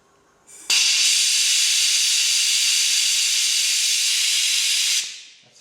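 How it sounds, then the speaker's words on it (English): A Fiat Cinquecento cooling system held under vacuum pulls coolant mixed with a Novastop sealant back in through a pipe from a bucket, making one steady, loud airy hiss that starts abruptly, holds for about four seconds, then fades out. "so it's sucking all the coolant back in now with the Novastop stuff in it"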